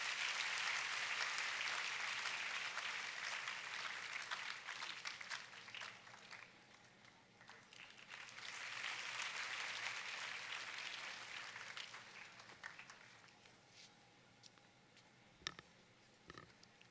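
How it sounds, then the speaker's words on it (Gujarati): An audience at a counselling programme claps to welcome a guest being felicitated, a soft, distant wash of applause that swells, fades and rises again before dwindling to a few scattered claps. "તાળીઓથી સ્વાગત કરીએ આપણે એમનું"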